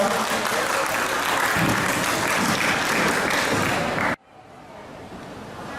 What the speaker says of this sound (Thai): ขอเสียงปรบมือให้กับอาจารย์